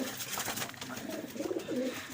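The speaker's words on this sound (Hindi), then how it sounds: "बेहतरीन कबूतर सारे ये देखें" Fancy Lakha Rampuri pigeons coo softly in repeated low, throaty bursts from a rooftop loft, the calls close by and rising over a steady background hum.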